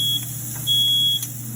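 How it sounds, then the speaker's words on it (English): A home smoke alarm goes off while scallops cook in a pan, giving shrill electronic beeps over a low steady hum of kitchen noise, with no voices. "my smoke alarm went off"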